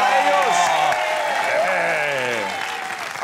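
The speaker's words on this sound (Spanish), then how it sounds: "¡Fuerte aplauso para ellos!" An audience claps and cheers loudly and continuously, with voices shouting over the applause.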